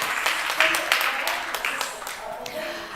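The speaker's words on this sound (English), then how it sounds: "please give our panel a beautiful round of applause" Audience clapping for a women's climate security panel, a short burst of applause that fades over a few seconds while a voice speaks over it.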